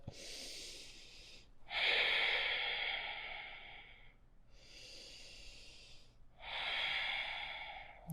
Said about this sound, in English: Couple deep breaths.